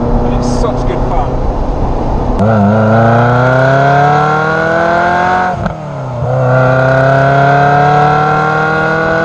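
A Ferrari 348 GT Competizione engine accelerates hard on a race circuit, loud and close, its rising revs climbing steadily through a gear, then dropping briefly on a quick change before pulling up again under spoken commentary.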